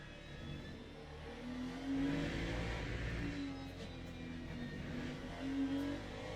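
Race car in Le Mans Ultimate taking the last corners at Imola, engine droning steadily at moderate volume with rising and falling revs through the bends, no talk.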